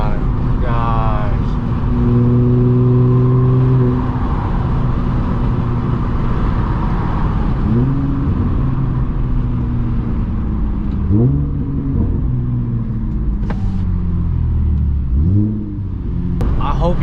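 An Audi S4 B8.5 fitted with an AWE exhaust and test pipes is revved hard several times, with loud rising and falling engine sweeps and a deep rumble between pulls; a person talks over parts of it.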